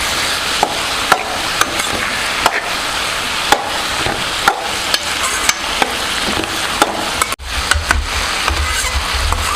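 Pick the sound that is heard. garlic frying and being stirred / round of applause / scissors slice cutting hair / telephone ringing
garlic frying and being stirred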